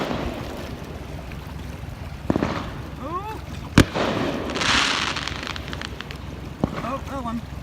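Fireworks go off over Lake of the Ozarks with a few sharp bangs and crackles at a distance, including one strong crack, amid wind noise, lapping water and some distant voices.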